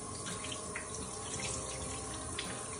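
Cold tap water runs steadily into a sink while a cleaning cloth is rinsed, a dense continuous splashing gush that stays close and even from start to finish, with no talking.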